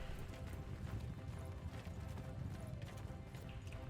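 Horse hooves gallop in a steady, dense clip-clop rhythm in the medieval combat game Mount & Blade II: Bannerlord, loud and continuous throughout with a brief whinny mixed into the battle noise.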